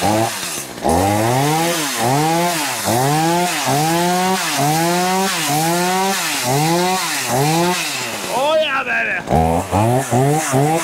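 A Poulan Pro chainsaw engine runs loud and close, revving up and down in a steady repeating cycle of rising and falling whine, then cuts briefly and restarts near the end.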